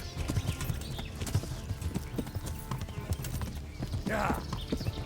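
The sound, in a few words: horse galloping hooves in video game Kingdom Come Deliverance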